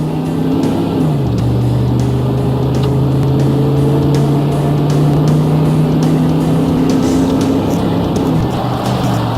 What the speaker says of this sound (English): Now try some upshifts at 3/4 throttle to see how the shifts get firmer with throttle.